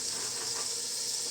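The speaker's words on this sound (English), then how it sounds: "You can hear a little bit of sizzle." Onions and celery sizzle gently in a soup pot with a steady, faint, airy hiss, constant and alone throughout.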